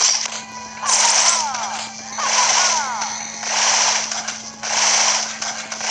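Rapid bursts of gunfire from the Cartoon Network Punch Time Explosion game on 3DS repeat in roughly one-second pulses, loud and rattling, with a steady electronic tone beneath.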